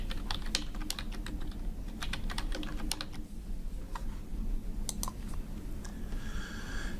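A temporary password tapped out on a computer keyboard in quick, uneven bursts of close keystrokes over a low steady background hum, with no voices.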